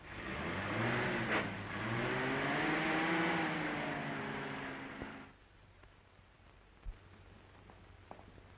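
Steady engine drone and road rumble from a car being driven, loud and continuous for about five seconds before cutting to a quiet cabin hush with a few small knocks, in a WW2-era film.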